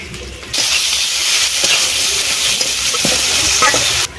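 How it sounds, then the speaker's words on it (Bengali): Chopped onions hit hot mustard oil in a kadai, setting off a sudden loud, close hissing sizzle that holds steady with a few scraping touches and then stops abruptly. "তেল গরম হয়ে গেছে, দিয়ে দিচ্ছি পেঁয়াজ কুচি"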